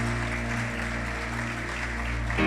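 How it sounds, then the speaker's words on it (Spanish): A church congregation applauds in a steady, sustained wash of clapping that lasts the whole stretch, moderately loud and even. "Démosle un aplauso fuerte a los que vinieron hoy por primera vez."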